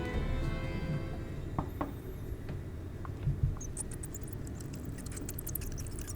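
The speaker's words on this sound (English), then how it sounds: "Hear faint squeaking from the room beyond." Rats squeak faintly in a room in Final Fantasy XIV: thin, high chirps cluster in quick bursts near the end, over a low ambient murmur broken by a few soft taps, with no one talking.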